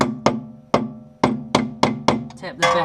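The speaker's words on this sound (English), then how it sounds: "tap the back of that with your hammer" Seven sharp metallic hammer taps on a car coilover ring out one after another at a steady pace, each with a brief resonant ring, followed by a short clattering scrape.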